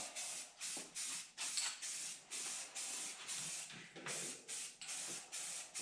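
Repeated bursts of spray primer hissing onto a car crossmember, about a dozen short even blasts in a steady rhythm, close and fairly quiet with no speech.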